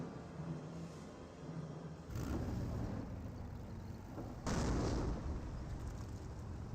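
Mortar shells bursting in Company of Heroes, two heavy booming impacts landing a couple of seconds apart over a steady rumbling battlefield din, loud and close.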